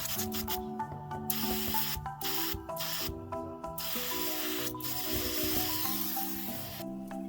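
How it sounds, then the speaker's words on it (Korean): A steady hiss of water spraying under pressure from a cracked floor heating pipe, continuous and close, with faint tonal hum layered underneath. "바로 이 소리인데요. 물이 새는 소리죠."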